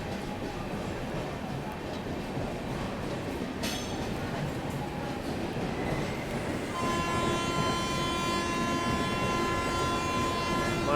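The Simhadri Express pulls away from a station platform with a low, continuous rolling rumble, and a long, sustained horn tone enters about two-thirds of the way through and holds to the end.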